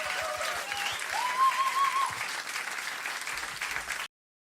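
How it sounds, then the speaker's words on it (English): An audience at a country music concert applauds the band with a sustained wash of clapping, a few whoops ringing through before the applause cuts off abruptly into silence. "Applaudiert bitte auch für die Band"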